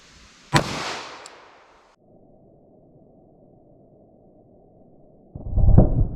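A .45 ACP Hornady Critical Duty round fires with a single sharp, loud report that rings out and decays, followed by a long low hum and then a heavy, booming rumble near the end.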